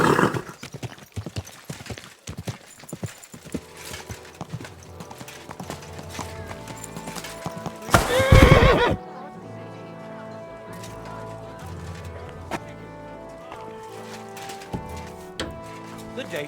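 A horse in the medieval video game Kingdom Come: Deliverance II gives steady clip-clopping hooves, then a loud, sharp whinny partway through, followed by calmer hoof steps under faint background music and occasional character voices.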